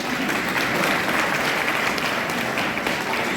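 An audience at a live Hindi comedy show applauds, a dense, steady wash of clapping throughout with no voices above it.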